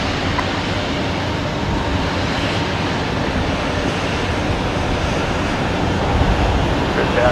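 A Boeing 737-800 takes off at Brisbane Airport at night, bound for Melbourne, as a dense, steady broadband jet roar that holds loud throughout and swells slightly near the end.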